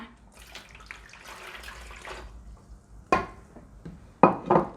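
Limewater is poured into a Thai batter mixture for kanom krok, a soft wet pouring and trickling that fades, then two sharper splashy bursts of liquid near the end, close and moderately quiet.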